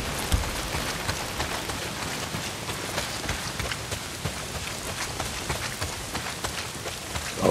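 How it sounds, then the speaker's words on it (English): Heavy rain pours down continuously in the video game Days Gone, a dense, loud, steady hiss of downpour with no voices. "Well, not if it's pissing down rain."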